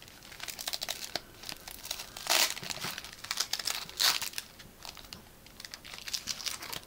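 A 3D printer hotend with fan being unbagged, with close crinkling and crackling of plastic packaging, tape and foam in irregular bursts and a few louder rustles, no talking.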